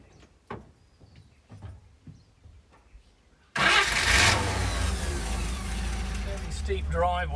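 A 1945 Lohner Dodge engine turns over after a few quiet clicks and knocks, then bursts into a loud, rough idle that carries on steadily, close by and unaccompanied by talk.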